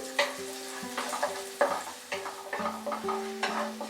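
Chopped ginger and garlic fry in oil over medium heat, with a close sizzling hiss and repeated stirring scrapes in quick, uneven strokes. Steady faint tones hum underneath.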